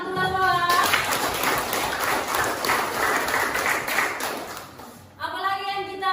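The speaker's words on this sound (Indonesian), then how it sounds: "Ya, tepuk tangan Tuhan Tuhan." A classroom of pupils claps together in a sustained burst of dense hand clapping, loud and close, with a voice heard briefly before it starts and again as it ends.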